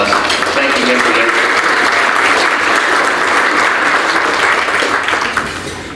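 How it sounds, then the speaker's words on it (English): A luncheon crowd at a university sports hall of fame induction ceremony claps loudly and steadily, broad sustained applause from many hands that eases off slightly near the end. "let's give each of them a round of applause"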